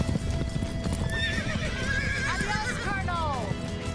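Horse hooves clip-clop steadily over a rough, busy background before a loud, descending whinny rings out near the end, from a horse in a Western-style period drama setting.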